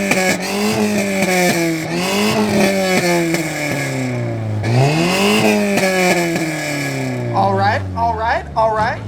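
Car exhaust at an exhaust competition of muscle cars, trucks and JDM cars, revving in repeated rising and falling surges up close, loud, with a crowd shouting over it near the end.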